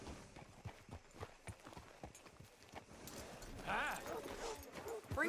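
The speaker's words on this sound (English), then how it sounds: "Hitch your horse up here." Horse hooves clip-clop at a steady walking pace in Red Dead Redemption 2, moderately close, with voices talking over them and a brief louder stretch near the end.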